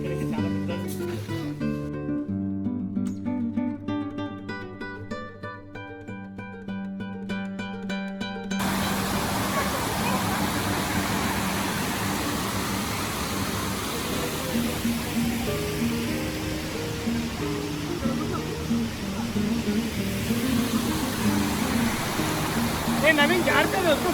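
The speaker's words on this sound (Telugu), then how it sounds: "వాటర్ ఫాల్కి వచ్చామన్నమాట" A waterfall in Telangana sends out a steady, broad roar of rushing water that fills the last two-thirds of the stretch, after an opening of voices and tonal sound.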